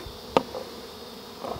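Bees buzz faintly during removal of a beehive from a condemned building, with a short sharp burst of a single insect close by and a soft hum underneath.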